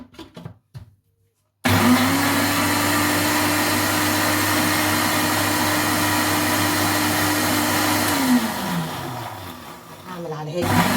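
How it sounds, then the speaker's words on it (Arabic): A blender starts with a sudden loud roar and runs steadily, mixing oil into a quick eggless mayonnaise, its pitch dipping and wavering near the end as the load shifts, after brief speech. "ونشغل الخلاط"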